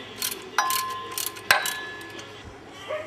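A ratchet fitted with a 14mm socket clicks on engine bolts of a 1998 Dodge Ram 1500 with a 5.9 engine, two sharp close metallic clacks among faint clicking, the socket work behind the idler pulley.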